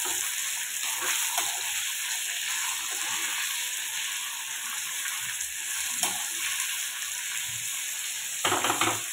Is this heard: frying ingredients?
yes